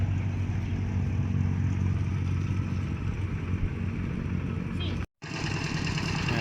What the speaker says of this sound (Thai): มาแล้วกำลังขับรถไถ